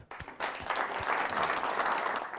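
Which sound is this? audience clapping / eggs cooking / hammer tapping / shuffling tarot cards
audience clapping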